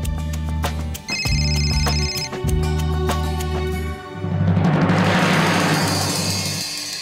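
A phone ringtone in a TV drama scene plays as a loud, repeating electronic melody in short bursts, then gives way to a noisier musical passage.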